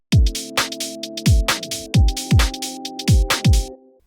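Punchy kick and snappy percussion hits in a syncopated garage rhythm over sustained synth pad chords, loud and upfront, no vocals.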